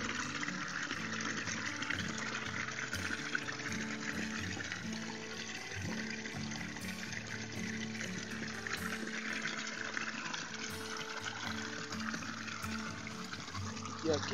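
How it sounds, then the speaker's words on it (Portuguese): Small waterfall on a babbling creek on a rural plot in Ibiúna, a steady broadband rush of falling water heard close and continuous, with no pauses. "vou deixar vocês escutando um pouquinho o barulhinho dessa cachoeira"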